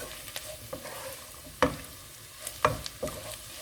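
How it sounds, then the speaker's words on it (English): Beef sizzles in a pan with pilau masala, onions, garlic and red pepper over low heat, a steady soft fry broken by a few sharp stirring scrapes and clacks. "This is cooking well. Yeah, the beef is getting darker because of the pilau masala as well."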